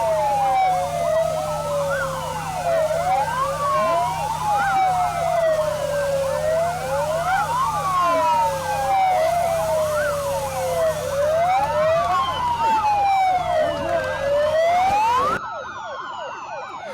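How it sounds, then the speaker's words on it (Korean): A fire truck siren wails loudly, rising and falling in steady cycles over a low engine rumble while heading to a wildfire in Incheon, South Korea, then abruptly cuts off near the end. "인천 송도소방서에서 출발한 소방차가 산불 현장으로 이동하고 있으며"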